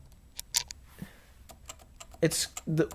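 Key presses on a Topre Type Heaven keyboard, a scattering of soft, dampened thocks and light clicks, a few sharper strokes near the end, with a faint voice talking in the background.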